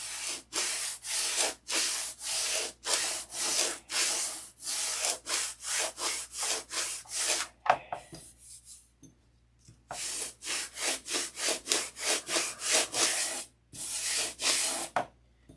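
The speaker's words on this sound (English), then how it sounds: "So I've sanded that quarter down to just a little bit over an eighth" Sandpaper is rubbed back and forth over a wooden Sig Magnum model airplane fuselage part in quick, rhythmic strokes, up close and steady, with a short pause midway before the strokes resume.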